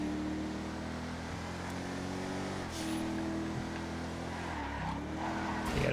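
A Serrano GT sports car with a rear wing drives in GTA FiveM, its engine a steady droning hum that shifts pitch through gear changes, with faint tire noise and no talk.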